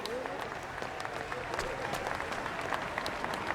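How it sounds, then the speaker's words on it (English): Crowd clapping from the HITMAN video game, a steady patter of many hands with audible reverb, continuous and moderately loud across the whole stretch. "This is the people clapping."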